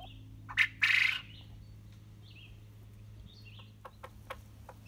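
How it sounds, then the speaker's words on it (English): A quail screams in the background near a hen with her newly hatched chick, two loud shrill bursts early on followed by fainter chirps and clicks over a steady low hum. "The thing screaming in the background is a quail."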